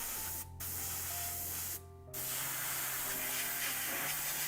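An airbrush sprays paint in a continuous loud hiss, cutting out twice briefly before resuming steadily up close, with no talking.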